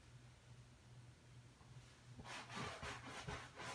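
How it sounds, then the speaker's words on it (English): Chalk paint being rubbed into sofa fabric with a brush: a quiet hum at first, then several short, close scrubbing strokes. "So I just keep dipping and rubbing"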